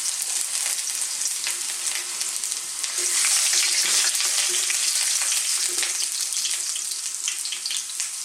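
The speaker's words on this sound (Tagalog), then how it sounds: "First step, lagay po natin yung ginger at ang garlic." Ginger and garlic sizzle in hot oil in a wok for a Filipino bottle gourd and shrimp sauté, a dense, loud, continuous crackle with occasional faint scrapes and no voices.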